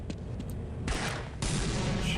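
Gunfire in the Half-Life video game as barrels are shot, with dense bursts of rapid shots and blasts that cut in and out, loud and close.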